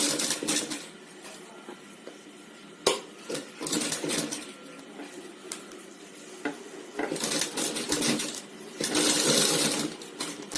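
A sewing machine stitching a flower and heart blouse design runs in bursts of rapid clattering, starting and stopping several times, fairly close with a soft room hum between runs.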